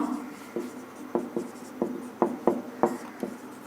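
Pen scratching out numbers on paper, a run of short, uneven strokes and taps close by with no talking, as figures are jotted down during a maths exercise.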